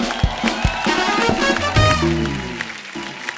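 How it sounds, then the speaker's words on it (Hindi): A television studio audience claps and cheers for poets, a loud burst of applause with crowd noise that gradually fades out. "इनके लिए जोरदार तालियां"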